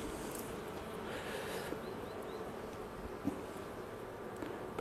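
Honeybees hum at an open beehive during an early-March hive inspection, a soft, steady buzz of many bees with faint brief rustles, quiet and at close range.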